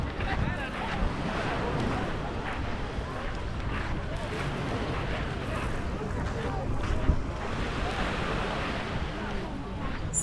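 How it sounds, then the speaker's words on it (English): Sea surf rolls steadily onto Glyfada beach near Athens, a continuous broad wash of waves with wind buffeting the microphone and no clear breaks. "You hear the sea"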